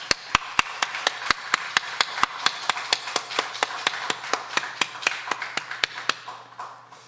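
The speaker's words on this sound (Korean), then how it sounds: "우리 하나님 앞 우리도 힘찬 박수로 다시 한번 영광 돌리겠습니다" A church congregation claps together in a quick, even rhythm of about three sharp claps per second. The applause is loud and fades out at the end.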